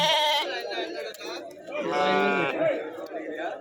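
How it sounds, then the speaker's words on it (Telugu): Sheep and lambs bleat at a weekly Friday sheep and goat market in Talupula, with several wavering calls rising over a steady background of people chattering nearby. "గొర్రె గొర్రె పిల్లలు ఉన్నాయి ఇక్కడ"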